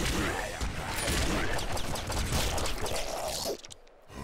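Grenade launcher fire in the top-down shooter Nuclear Throne, dense bursts of explosive blasts and crashes at steady loudness, with game effects layered throughout.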